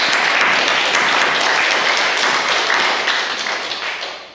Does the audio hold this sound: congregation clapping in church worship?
yes